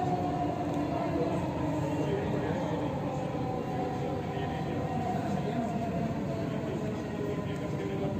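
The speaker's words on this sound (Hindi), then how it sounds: "अभी इधर से अंडरग्राउंड को जाएगी ट्रेन" Dubai Metro train rolling on as it heads down underground, a steady loud rumble and whine of the carriage from inside, constant throughout with voices murmuring underneath.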